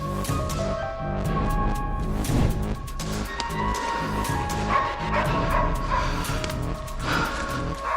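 A dog yelps and whimpers repeatedly in short, sharp bursts as a coyote attacks it outdoors, the cries close and insistent over steady background noise.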